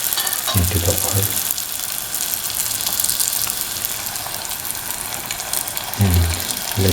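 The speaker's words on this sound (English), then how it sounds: "let the balls fry by turning from side to side." Chicken meatballs sizzling in hot oil in a pan, a steady crackling fry throughout with brief stirring or turning sounds near the start and end.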